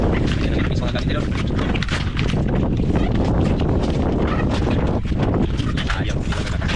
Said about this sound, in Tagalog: Naghangin na ng idol. Naglakas na ng hangin idol.